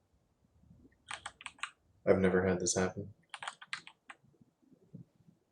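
Close keyboard clatter in quick bursts of key presses, before and after someone speaking briefly in the middle.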